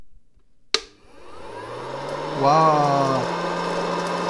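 A popcorn machine starts with a sharp click and a motor whoosh that builds into a steady loud whirring hum, rising in pitch partway through, while a voice exclaims briefly.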